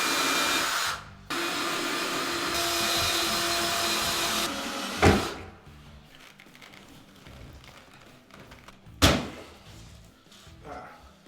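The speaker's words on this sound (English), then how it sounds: "I'm going to drill out all the pop rivets" A drill fitted with a 1/8 bit grinds out pop rivets holding a shower screen during a bathroom renovation: a loud continuous whir for about five seconds broken by a short gap, then two sharp thunks against quieter background.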